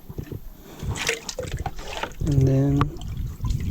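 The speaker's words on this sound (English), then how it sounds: "grab some water from my sink." Tap water runs and splashes into a sink during hand-washing of merino wool, close by, while a person talks over it.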